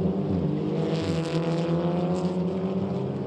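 SEAT Leon Eurocup race cars racing at the Silverstone circuit in the UK, accelerating onto Wellington Straight; a loud, continuous engine roar holds steady throughout.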